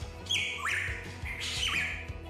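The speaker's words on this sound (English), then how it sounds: "let me introduce you to the Hooded Pitahui." Two loud, harsh hooded pitohui calls with rising and falling whistled squawks, close by, over a low background hum.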